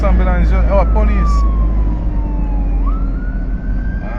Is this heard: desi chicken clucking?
no